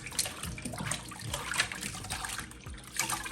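Running water rinses salted codfish (saltfish) being washed off before boiling, a steady splashing trickle with irregular bursts, close and moderately loud with no voices.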